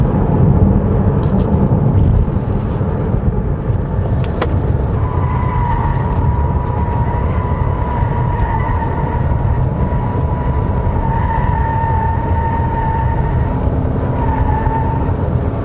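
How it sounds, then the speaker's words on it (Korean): Tire and road roar inside a 2021 Chevrolet Malibu 2.0 Turbo, a loud continuous low rumble with faint whining tones above it, holding steady throughout with no talking. "노면이 좋은 곳과 안 좋은 곳에서의 그 타이어 소음이 차이가 좀 굉장히 좀 큰 편이라고 하겠어요"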